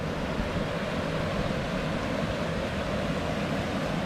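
Cascade Falls, a smaller waterfall on a hiking trail, pours in a steady, dense roar of rushing water, loud and close, with no break or voices.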